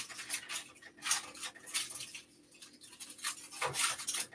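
Aluminium foil crinkles and rustles as it is laid over sausages in a pan, with a series of soft, scratchy bursts close up and fairly quiet.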